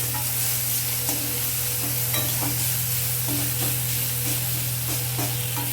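Chopped tomatoes stirred and sautéed in a little oil for a spicy Gudjauli sea-fish curry, a continuous sizzle over a low steady hum, dotted with soft utensil clicks throughout; no voices.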